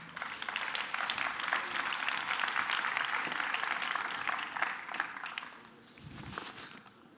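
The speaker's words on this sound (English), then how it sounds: "Please give him a round of applause." A conference audience at a ChangeNOW 2024 session claps warmly, a full, sustained round that thins and fades near the end, with a few footsteps as someone walks to the stage.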